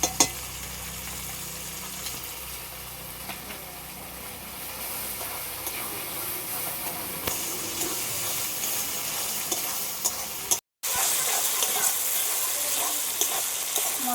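Spices and red chili powder sautéing in hot oil for a chicken curry with native chicken and raw mango, a steady close sizzle and hiss with occasional stirring scrapes, going on without talk and broken by one brief cut.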